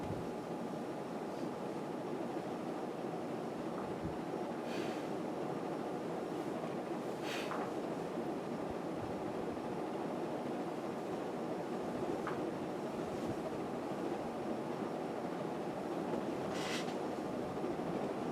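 A 1980 Casablanca Victorian ceiling fan runs at full speed, giving a steady, even whoosh of moving air with a few faint rustles from a poster flapping in the breeze.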